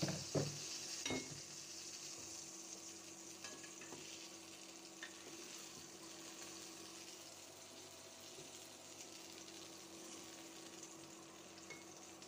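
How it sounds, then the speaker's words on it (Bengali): Eggplant slices fry in a home kitchen pan, a steady close sizzle running the whole time with a few brief clatters and stirring bumps near the start. "এখন বেগুনগুলো ভেজে নিচ্ছি।"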